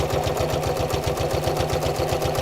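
Sewing machine stitching kraft-tex paper fabric with a long 3mm stitch, a fast steady mechanical chatter running continuously, close and loud, with no talking.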